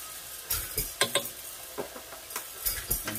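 Ground meat and onions fry with black pepper, MSG and paprika in a pan, a soft sizzle broken by repeated close stirring scrapes and clinks of a utensil, no voices.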